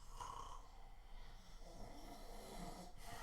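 A person imitates loud snoring with their voice, producing drawn-out rasping breaths that repeat steadily and close up for several seconds with no other talking.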